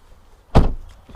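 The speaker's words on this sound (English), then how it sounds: "Let's shut the door, Benjamin." A single solid thud of a BMW i3 electric car door being shut nearby, followed by a brief rattle as it settles.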